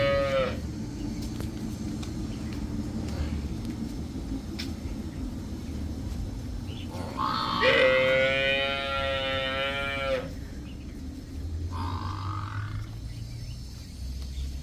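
Cows moo at a Punjabi dairy farm where cows and buffalo are kept for sale: a long, loud, drawn-out moo midway, then a shorter one, over a steady rural background hum.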